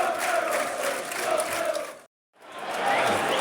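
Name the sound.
football crowd's minute of applause at Millwall match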